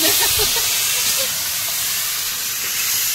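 Potatoes dropped into hot oil for a Bengali white potato curry give a loud, continuous hiss and sizzle that stays near and steady throughout.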